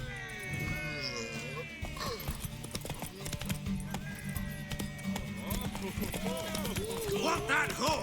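Hooves clip-clop at a gallop in The Witcher 3, with a horse neighing over fast, rhythmic footfalls. Voices talk through it, and game music and effects play underneath.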